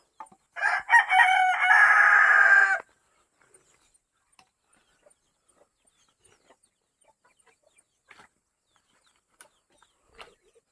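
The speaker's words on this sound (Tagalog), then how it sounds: "Ani ng manok." A single loud rooster crow rings out for about two seconds, followed by near silence with only faint scattered ticks and rustles.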